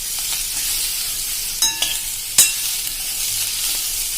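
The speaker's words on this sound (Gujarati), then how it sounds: "હવે 1 મિનિટ આ રીતે તમારે સ્લો ફ્લેમ ઉપર આ રીતે ચલાવી લેવાનું છે, ગેસ ઉપર જ" Chopped bottle gourd sambharo is stirred in a pan over a slow gas flame, with a soft, steady sizzle and a couple of clear clinks of the spoon against the pan.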